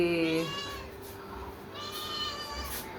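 A hungry cat meows twice for milk, close by and clear, with drawn-out wavering cries separated by a brief pause.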